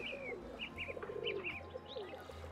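Birds in the Nancy Drew: Danger by Design video game chirp and coo in short repeated calls, moderately close, over a quiet low background hum with no talking.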